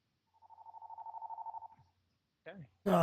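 A phone rings with a rapid, evenly pulsed electronic trill lasting about a second and a half, clear and close. A short voice and a louder burst of sound follow after a pause.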